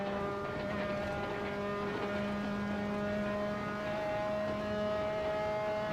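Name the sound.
Formula 3 car bottoming out in racing video game Assetto Corsa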